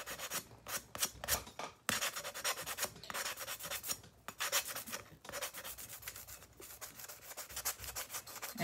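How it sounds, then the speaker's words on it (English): Light sanding of cured epoxy on a fingernail, quick rhythmic rasping strokes in short bursts, close and soft, with no talk. "And I will just sand it lightly on the bottom."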